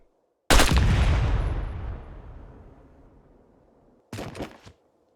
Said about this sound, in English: Over here, we will test the pressure cooker device.